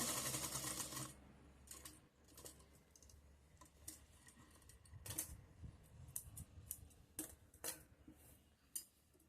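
A sewing machine runs in short bursts while stitching a pocket onto trousers, with a quick run at the start and then a series of brief stitching spurts and clicks, close and fairly quiet.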